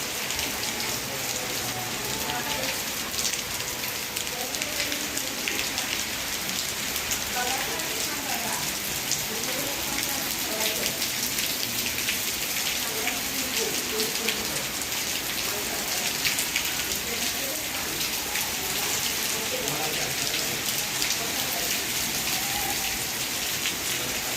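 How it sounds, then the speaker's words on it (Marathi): Light, fine rain falls in Sangli district, a soft continuous patter of drops on surfaces that stays even and steady with no voices. "आमच्या इकडे सांगली जिल्ह्यात मोठा पाऊस नाही आहे बारीकच पडायला लागला"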